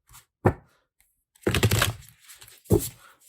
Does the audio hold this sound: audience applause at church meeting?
no